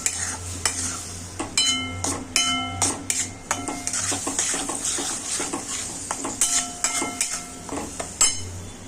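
Spoon scraping and stirring in a metal pot of sautéing food over a low flame, with repeated clinks and a soft sizzle underneath, close and steady.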